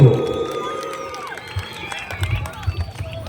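An audience at a stage event with several celebrities lets out a burst of cheering and clapping that is loud at first, then fades into scattered crowd noise.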